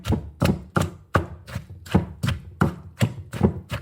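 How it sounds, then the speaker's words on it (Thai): Steady pounding in a mortar, about ten evenly spaced heavy thuds with a woody knock, close and clear, mashing seasoned ingredients that include chopped apple. "ก็จะตำให้เขา เข้ากัน เป็นเนื้อเดียวกัน"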